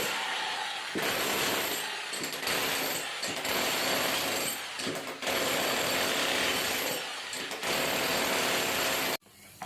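A power drill grinds loudly into a water pipe in sustained bursts with short pauses between, harsh and close, ending abruptly.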